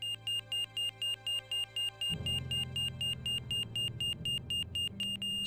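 Repeated electronic alarm beeping in the Broken Sword video game, a steady rhythm of short, evenly spaced high tones that keeps going throughout, with a lower hum beneath it partway through.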